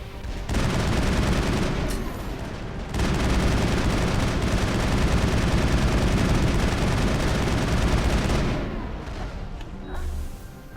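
Sustained, dense gunfire during a firefight with a turret in the Mass Effect video game, loud and continuous for most of the stretch with a brief dip near the start and tapering off toward the end.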